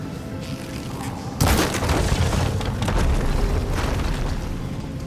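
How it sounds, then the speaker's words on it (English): A deep explosion in a mine in the video game Horizon Forbidden West booms suddenly after a quiet rumble, followed by a long, loud roaring and crumbling tail. "An explosion?"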